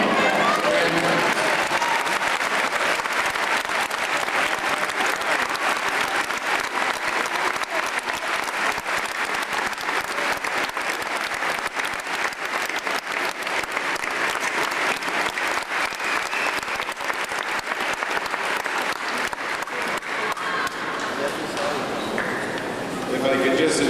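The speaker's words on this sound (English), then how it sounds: "Let's have the grandparents in the crowd please stand for another warm round of applause." Sustained applause fills a high school graduation ceremony as the crowd claps continuously and densely for the whole stretch, loud and even with no pauses.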